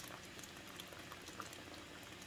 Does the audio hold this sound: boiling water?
yes